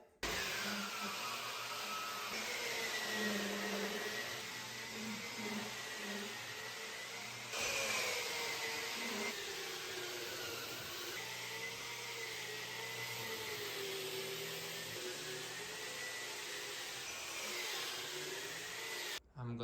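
Inokraft drywall sander running steadily on a wall, a loud continuous motor whine with a fan-like whoosh that holds for the whole stretch, with a brief shift in tone partway through.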